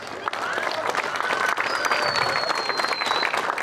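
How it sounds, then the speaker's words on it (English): Sustained applause from an audience honoring tournament finalists at a pickleball hall of fame event, a dense, even roar of clapping lasting the whole stretch with a faint tone running through it. "One more round of applause for all of this year's finalists."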